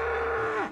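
A cow gives one short, deep moo that holds steady, then drops away at the end, close and loud with no talking.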